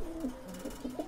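Pigeons kept by a hobby breeder coo softly in several low, rolling calls close by, with no talking.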